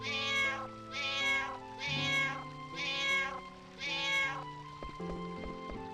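Cat in the Final Fantasy IX video game meowing five times in a steady, evenly spaced series, clear and close, over soft game music.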